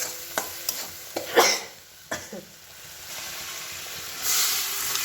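Spices being sautéed with salt and sugar in a pan for a potato-cauliflower curry, heard as a soft low sizzle broken by a few sharp scraping stirs, with a brighter hiss rising near the end.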